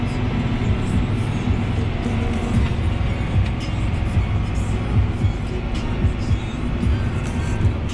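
Steady, loud low rumble of a car rolling along a road between Indiana and Illinois in autumn, constant tire and engine drone throughout with no breaks.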